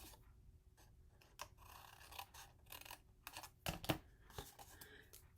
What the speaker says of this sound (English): Cut it right up to the chipboard.